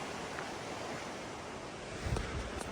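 Steady broadband rush of a mountain stream flowing continuously in the Western Tatras, Slovakia, with a slight surge near the end; no voices, just an even outdoor wash.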